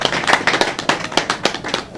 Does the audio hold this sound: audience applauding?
yes